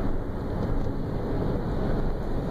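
Engine of a Honda Insight while downshifting through the gears, a dense steady low rumble mixed with wind-like broadband roar, loud and continuous without distinct shift breaks.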